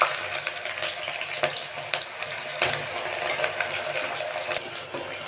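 Chopped onions for methi pulao frying in a pan, a steady broadband sizzle with occasional stirring clicks and scrapes, close and continuous with no talk.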